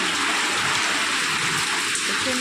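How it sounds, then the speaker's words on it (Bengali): Heavy rainstorm in the morning, dense steady hiss of rain pouring on surfaces, loud and unbroken for the whole moment. "আজ সকালবেলা উঠে দেখি প্রচণ্ড হারে ঝড় বৃষ্টি শুরু হয়ে গেছে।"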